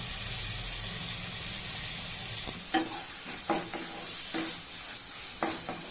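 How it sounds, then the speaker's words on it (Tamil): Steady sizzling and hiss of onions and tomatoes sautéing in a pan for pakoda gravy, with a few scattered stirring clatters, no voices. "தக்காளியும் வெங்காயமும் நல்லா வதங்கிடுச்சு."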